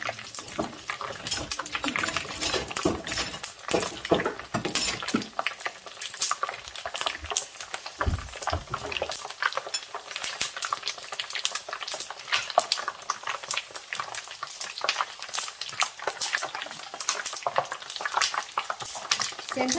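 Pork skin cracklings frying in hot oil, a dense continuous crackle and sizzle with sharp spattering pops throughout, close and steady with occasional stirring clinks.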